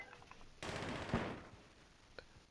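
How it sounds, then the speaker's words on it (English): Gunfire in a video game: a sudden dense burst of rapid shots lasting under a second, fairly close and loud, with no talking. "Somebody's shooting, though."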